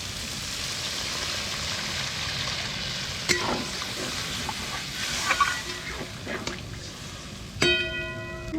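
Water poured into spice paste frying in oil for a pholui fish curry, a continuous hissing sizzle with scattered sharp pops and crackles, close and moderately loud.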